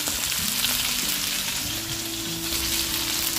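Cumin seeds and onions frying in a pan for a nopales and meat dish, a loud, continuous close sizzle with faint stirring underneath, no voices.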